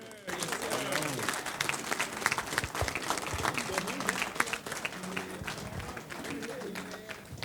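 An audience at a Black History commemoration event applauds in a sustained crowd clatter of many hands, with voices murmuring and talking underneath throughout.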